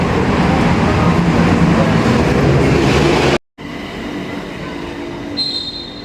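A train rumbles loudly with steady rolling noise, then after a brief cut a quieter driverless electric train arrives at a platform in Thailand, humming along with a faint high squeal of wheels.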